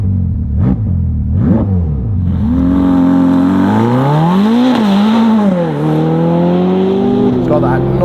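Novitec Ferrari F8 N-Largo supercar revving loudly up close, its engine note rising and falling through several throttle blips and a sustained climb, with the exhaust dominating throughout.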